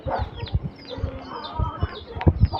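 A hen that has just laid an egg clucks in short repeated bursts, close by and fairly loud, with faint farmyard background and no speech.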